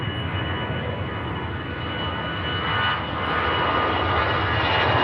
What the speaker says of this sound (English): A350 of Japan Airlines there. On the ground, next departure.